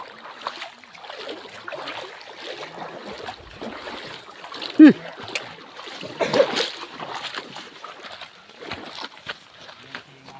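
Water splashing as people wade across a river on the way to their base, broken bursts of churning and slapping water with a louder splash near the middle, voices and movement mixed in.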